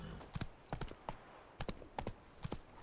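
The horse Roach trots with rhythmic clip-clopping hooves in the Witcher 3 video game, a steady run of paired hoof strikes at moderate volume over faint background ambience.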